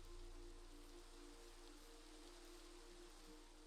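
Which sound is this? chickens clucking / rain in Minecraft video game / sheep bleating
rain in Minecraft video game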